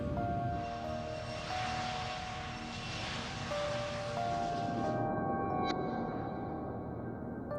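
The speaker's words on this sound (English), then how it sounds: "British Airways Flight 5390 is leaving Birmingham, England for Spain" British Airways Flight 5390, an airliner taking off from Birmingham, England, its engines producing a loud, steady roar with droning tones that holds strong and close, then cuts off abruptly near the end.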